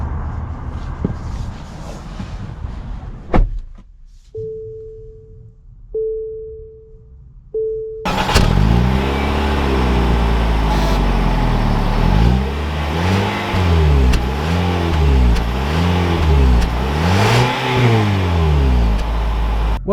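A 2021 Nissan Rogue SV pulls away. A few electronic chimes sound inside the cabin first, then the engine rises and falls in repeated surges of acceleration, loud and continuous.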